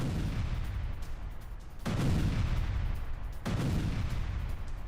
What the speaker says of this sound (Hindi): आर्टिलरी अटैक कर इमारतों को तबाह किया गया।